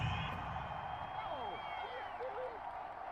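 Home crowd in a stadium at a night NFL football game between the Washington Commanders and Chicago Bears, a broad steady roar of cheering and applause after an interception, continuous throughout with whistles and whoops rising above it.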